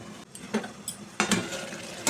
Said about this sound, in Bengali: এবার ঢাকাটা খুলে দেখে নিচ্ছি বন্ধুরা।